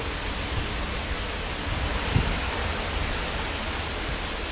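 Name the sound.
strong hurricane wind gusts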